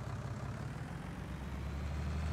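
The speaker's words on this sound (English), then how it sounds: "I believe this is the only tractor we have at the moment." A tractor engine in Farming Simulator 19 on the Estancia Lapacho map drones steadily at a low pitch, a constant heavy rumble with no talk over it.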